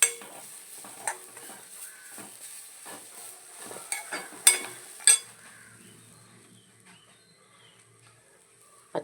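Curry leaves and coconut roasting in a pan for Kerala roasted-coconut moru curry, with clinking stirring strokes and a soft sizzle for about five seconds before fading to near silence.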